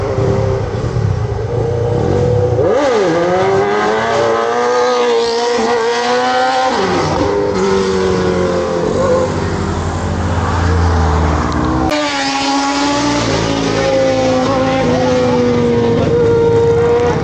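Yamaha NMAX scooter and other vehicles passing on a road, with continuous loud engine and traffic noise, engines rising and falling as riders go by close to the microphone.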